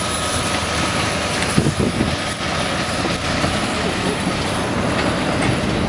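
A CN SD70M-2 diesel locomotive switching in a rail yard, a steady loud rumble with rolling rail noise and faint metallic squeals, continuous and fairly close throughout.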